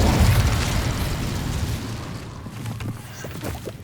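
Incendio fire spell from Hogwarts Legacy erupting in a loud whooshing blast, a dense roar that slowly fades over several seconds with faint crackles and small pops near the end.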